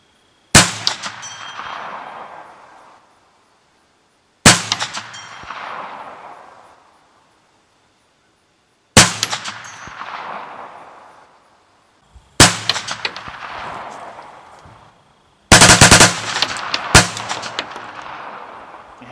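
Five shots from a Ruger PC9 pistol-caliber carbine, each a sharp crack followed by a ringing metallic clang from steel targets at 100 yards, spaced a few seconds apart, with the last two close together.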